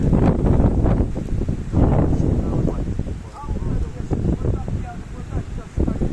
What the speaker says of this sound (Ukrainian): Ух, вітруган. Такий вітер, може, не чуть мене нічого